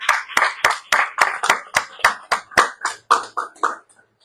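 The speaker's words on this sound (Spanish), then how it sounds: "démosle un aplauso al Señor" Congregation claps at a church service in a steady, rhythmic beat, about a dozen close, crisp claps, slowing and fading out at the end.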